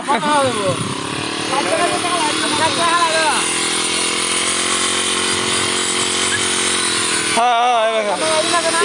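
A brush cutter grass-cutting machine runs with a steady, loud engine drone that briefly shifts in pitch near the end, while people talk over it nearby.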